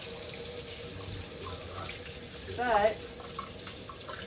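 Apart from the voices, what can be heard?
washing hands under running tap water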